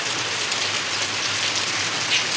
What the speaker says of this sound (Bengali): বৃষ্টিটাই কিছুক্ষণ আগে শুরু হলো